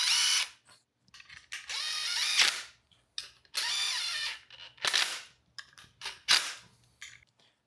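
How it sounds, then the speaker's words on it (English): Ratchet driving ignition coil bolts into a relocation bracket with an 8mm socket during an LS engine swap on a Land Rover Discovery 2, several close bursts of rapid clicking separated by short pauses. "drive them with an 8mm socket"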